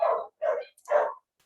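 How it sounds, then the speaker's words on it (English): Several dogs bark in three loud, close bursts with short gaps between them, sounding agitated, with no talking. "you hear my dogs are freaking out"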